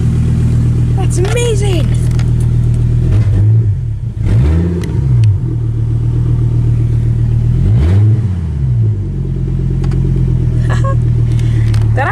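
Pickup truck with straight-piped exhaust starting for the first time, a loud rumbling idle with a couple of revs rising and falling, close up, as a person speaks excitedly over it.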